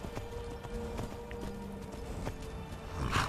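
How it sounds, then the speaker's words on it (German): A horse's hooves clip-clop steadily while riding across open prairie in the game Skyrim, set under a continuous wash of game ambience and distant rumble. "Einfach wieder mal ein bisschen durch die Prärie reiten."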